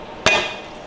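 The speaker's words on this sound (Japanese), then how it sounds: "ちょっとね、包丁で潰して香りが出やすいようにしておいてください" A kitchen knife strikes down to crush ginger on a cutting board, one sharp, close impact with a short ringing decay, no voices.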